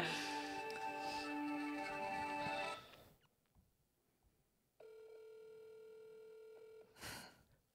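A telephone handset during a prank call: a loud tone sequence for about three seconds, a quiet pause, then a steady ringback tone and a short burst at the end.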